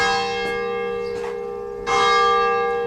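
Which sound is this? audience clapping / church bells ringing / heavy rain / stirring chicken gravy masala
church bells ringing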